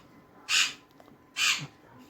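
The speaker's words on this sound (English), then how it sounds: "I'm still hearing those birds somewhere." Two loud, harsh bird squawks, crow-like caws about a second apart, close and alone over a quiet background.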